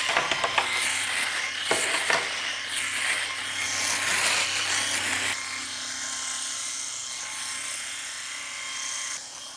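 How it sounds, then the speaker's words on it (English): A Philips Norelco Shaver 5100 wet-and-dry electric shaver cutting dry stubble gives a steady, close buzzing whir with scratchy rasping bursts, continuous throughout and without speech. "I'm going to go ahead and shave dry with it just to show you what that's like."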